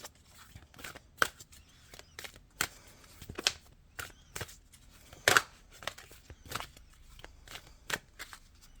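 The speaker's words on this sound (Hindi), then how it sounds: "मैं सिर्फ 2 कार्ड्स निकालूंगी यहाँ।" Tarot-style cards shuffled and drawn for a reading, heard as a string of soft crisp flicks and snaps in irregular bursts, close by and fairly quiet with no talking.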